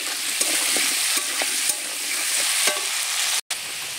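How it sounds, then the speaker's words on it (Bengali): Salted potatoes sizzle steadily in hot oil in a pan, a dense, even crackle with small pops and clicks scattered through it, briefly cutting out near the end. "আলুগুলো এই তেলে ভেজে নেব।"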